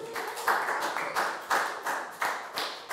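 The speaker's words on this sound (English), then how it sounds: "Big round of applause for Nadia." Classroom of Year 4 pupils clapping for a classmate, loose bursts of hand claps in a rough repeating rhythm, fairly close and moderately loud, with no talking over it.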